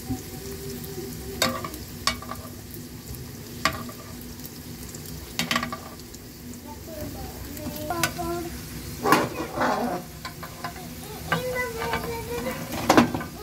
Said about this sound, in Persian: خب سوسیسا رو الان پشت رو میکنیم. اون بعدشون سرخ شده، میذاریم که این روشون هم سرخ بشه.